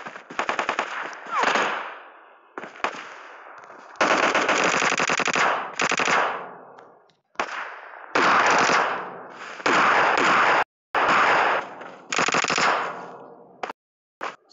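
Rapid automatic gunfire from the BGMI video game sounds in long, loud bursts separated by brief silences, repeating for the whole stretch with no voices over it.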